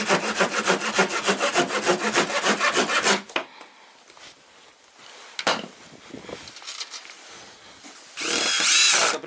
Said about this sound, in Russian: берем шуруповерт в руки и погнали